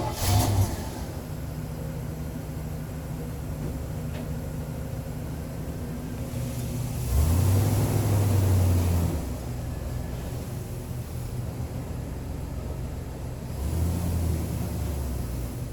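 An old Chevy C10 pickup with a worn carburetor idles with a steady rumble, then revs up twice in swells of a few seconds each, with a breathy hiss riding over the engine.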